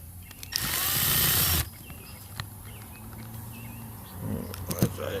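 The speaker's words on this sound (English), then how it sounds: "So I'm gonna use my old drill here." Old power drill boring a hole during a latch install on a 2002 Arctic Cat ZR 600 Sno Pro snowmobile, one loud close whirring burst of about a second, then quiet with faint birds and a few handling clicks.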